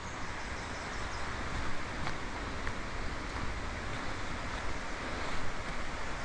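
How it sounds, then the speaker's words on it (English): Water rushes steadily at a waterfall in North Wales, a dense, even roar close to the microphone with no pauses and a slight swell in loudness partway through. "I can hear the water."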